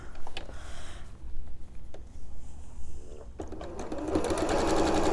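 A sewing machine stitches quilt pieces, opening with a few mechanical clicks and handling noises. Steady close motor hum and rapid needle clatter then build and run loudly to the end.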